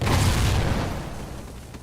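A grenade explodes in the video game Call of Duty Ghosts: one loud, close, deep boom that rumbles and fades over about two seconds.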